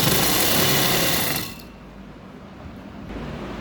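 A sewing machine stitching lace onto a dupatta runs with a loud, fast, whirring mechanical buzz, then stops abruptly, leaving a quiet room hum.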